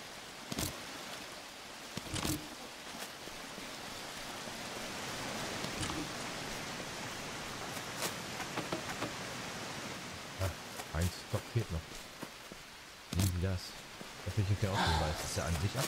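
Steady rain hisses in the Amazon survival game Green Hell, a soft even wash running throughout, broken by scattered clicks and thumps of play and occasional talk.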